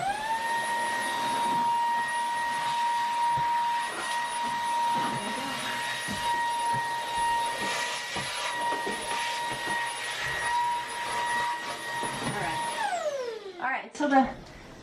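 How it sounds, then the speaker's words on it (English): A small vacuum cleaner whirs steadily with a high motor whine and faint voices beneath, then winds down near the end. "Maybe this little vacuum under here."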